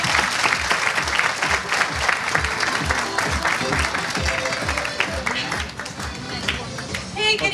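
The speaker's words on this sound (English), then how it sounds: "let's give her a huge round of applause" A crowd at an evening Eid community party applauds a first-time speaker taking the stage, full clapping that runs throughout with some cheering and murmur mixed in, easing slightly toward the end.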